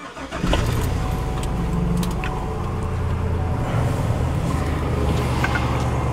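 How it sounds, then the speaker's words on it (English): A pickup truck used for snow plowing cranks and fires up on a cold day, then settles into a steady close idle rumble, with a few small knocks and clicks around it. "let's start the truck up, get it defrosted."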